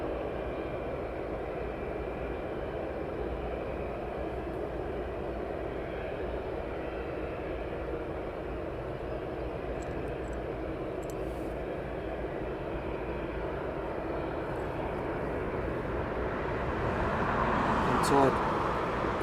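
A FedEx Boeing 757 freighter taxiing after landing at East Midlands Airport gives a steady distant jet engine rumble and whine that swells slightly near the end, with people talking over it.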